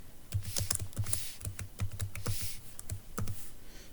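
Rapid, uneven keystrokes on a computer keyboard tap out a number, a close run of crisp clicks and soft thumps with short pauses between bursts.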